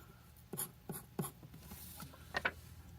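A Kakuno fountain pen writes on 28-pound white copy paper, making light scratchy strokes close to the microphone. Three evenly spaced marks are followed by two quicker ones, all soft and set against a quiet background.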